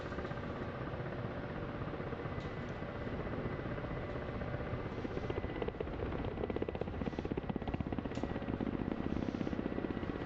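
A helicopter in the DCS flight simulator game gives off a constant, dense rotor and turbine roar with a fast chopping pulse, steady and loud throughout with no talking over it.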